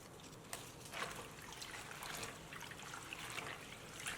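Sweet potato leaves are rinsed under a faint trickle of running tap water, with a quiet, continuous splashing and a few light splatters as the leaves are handled.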